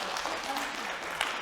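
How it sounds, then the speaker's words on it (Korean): A church congregation in Berlin applauds to welcome a newcomer to Sunday worship. Steady, dense clapping fills the short moment with a slight swell near its end. "우리 박수로 환영하겠습니다."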